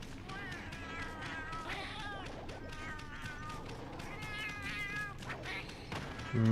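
Several cats meowing in a video game, a run of high, wavering mews and short cries scattered across the passage, with faint tapping underneath and a louder thump at the end.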